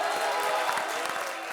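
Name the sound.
studio audience applause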